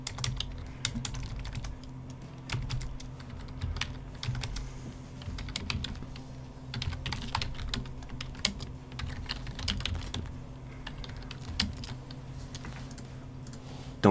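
Steady typing on a computer keyboard, quick irregular key clicks close by at a low level over a faint constant background hum.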